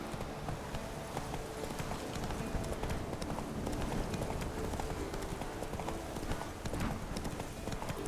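Horse hooves clip-clop in a steady galloping rhythm as the horse Roach runs in the video game Witcher 3. The hoofbeats are close and continuous over ambient game sound, with no talking.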